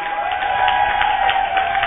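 A church congregation on its feet claps and cheers for God, a sustained crowd applause with steady rhythmic hand claps layered over a tonal hum, holding an even level throughout.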